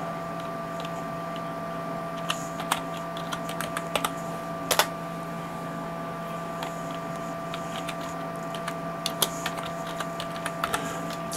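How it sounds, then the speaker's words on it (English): Steady clicking of keys on a computer keyboard as a command is typed on a Raspberry Pi running RetroPie, scattered bursts of keystrokes over a constant electrical hum, no voices. "We'll just type in sudo"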